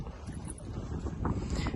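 Wind gusting across open water by the mangroves of Munroe Island, Kerala, a steady broadband rumble that swells toward the end, with no voices.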